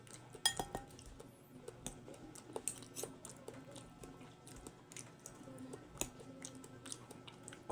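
Close, quiet chewing of cooked saluyot and okra with intermittent clinks of cutlery on a dish, soft and irregular, with no talking.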